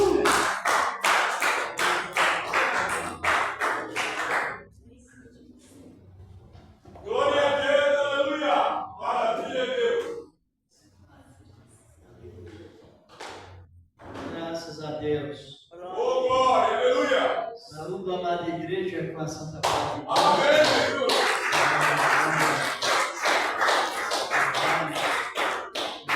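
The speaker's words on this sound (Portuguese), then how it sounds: "As palmas bem fortes para Jesus." Church congregation clapping hard during a Portuguese-language worship service, loud bursts of dense clapping at the start and end, separated by stretches of someone speaking and singing.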